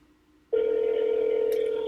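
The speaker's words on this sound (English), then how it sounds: "Nothing like a phone call." A telephone tone starts abruptly after a short quiet moment and holds steady and loud to the end, a continuous electronic ring with a brief click near the close.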